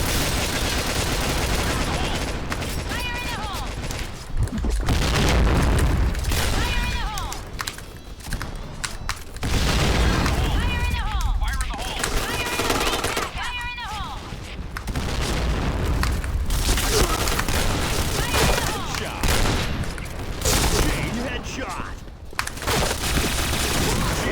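Repeated booming blasts and crackling bursts of bomb explosions in the video game Point Blank, dense and loud, with brief quieter gaps between volleys.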